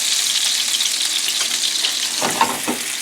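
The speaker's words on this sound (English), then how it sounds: "And if you shake the pan like that, all of them won't roll over." Sriracha chicken meatballs frying in a pan give a loud, constant sizzle, with a few brief rattling shakes of the pan near the end, close up and with no talking.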